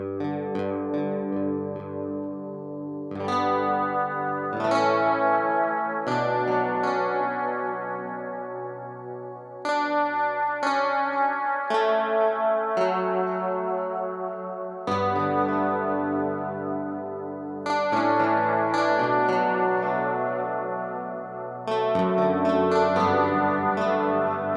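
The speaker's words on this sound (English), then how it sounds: "Gotta slap some reverb on there." Ableton stock instrument playing sustained, layered chords and melodic notes drenched in reverb, with phrases changing every few seconds and long tails blurring into each other, steady and fairly loud throughout.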